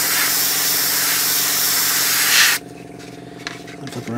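A steady broadband hiss of an airbrush spraying light coats of paint on a 1/35 scale Chieftain tank model for about two and a half seconds, then it cuts off, leaving quiet background with faint clicks.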